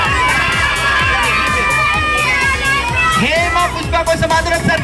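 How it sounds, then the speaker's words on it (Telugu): Crowd of children at a birthday party loudly shouting their school name together, a dense, energetic roar of young voices sustained throughout, over a steady rhythmic thump. "somebody shout your school name loudly and take it faster"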